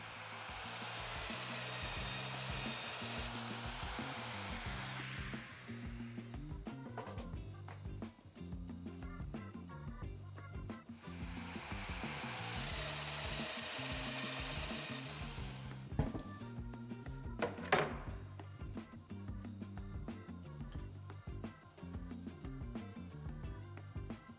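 Festool Domino joiner with an 8mm cutter plunging tenon mortises in an MFT cart build, two long, steady motor whines separated by quieter pauses, close up, followed by faint handling clicks.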